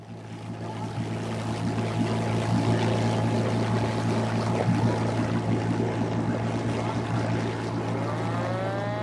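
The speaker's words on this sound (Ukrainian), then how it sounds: "Водосховищем курсує екскурсійний катер з мелодійною назвою «Анна»." An excursion motorboat cruising across a reservoir, its engine giving a steady, loud low drone with continuous water wash throughout, no speech.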